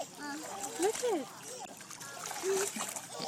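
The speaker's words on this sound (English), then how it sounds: "That one splashed her face." Water splashes repeatedly as a baby plays in it, with irregular splatters and trickles heard close by under cheerful voices of children and an adult talking.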